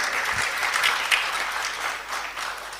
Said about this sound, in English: I thought you would clap for them or something.